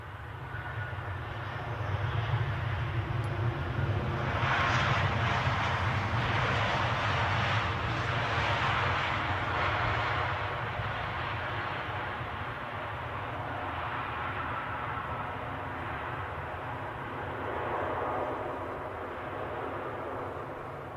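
An Airbus A220 jet airliner roars steadily at Edinburgh airport, a loud, sustained broadband engine rumble that swells around the middle and holds without a break.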